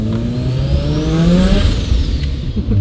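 A car engine revs up loudly nearby, its pitch climbing steadily, then easing back with a steady drone; no voices.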